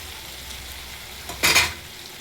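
Paneer pieces dropped into a hot pan of softened ingredients set off a sudden loud, close sizzle burst after a quiet background hiss, which then fades back down.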